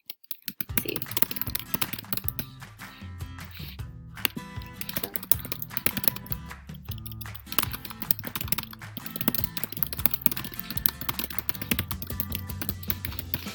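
Rapid, continuous typing on a computer keyboard, dense clicking keystrokes at close range with brief pauses between bursts, no talking.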